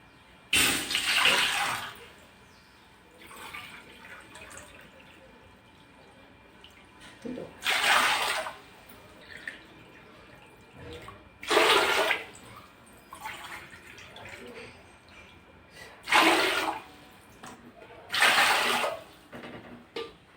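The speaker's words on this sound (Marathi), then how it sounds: "तर आता मी इथे 14 भांडे पाणी घेते" Water is poured into a pot one measure at a time while making rice papad, heard as several separate splashing pours up close with quiet pauses between them.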